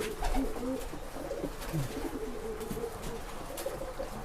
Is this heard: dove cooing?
yes